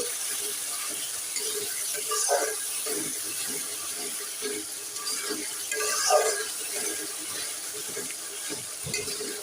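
Water is poured into a pan of spice paste frying in oil, giving a quiet, steady sizzle with a couple of brief bubbling bursts and faint stirring.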